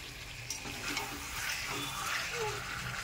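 Potato and paneer frying with a chilli-tomato spice paste in a pan, a steady close sizzle with occasional stirring scrapes and spatters throughout.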